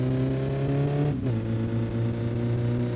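Car engine revving hard in My Summer Car while the car speeds down a highway: a loud, steady drone that drops briefly in pitch and level at a gear change, then keeps pulling.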